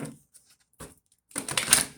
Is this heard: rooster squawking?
no